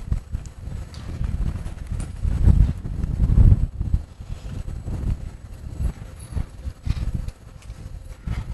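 A horse working cattle in a cutting-style lesson: hooves clip-clop in quick, irregular bursts on soft ground, close and fairly loud, with heavier thuds as it shifts and turns, and some wind noise across the microphone.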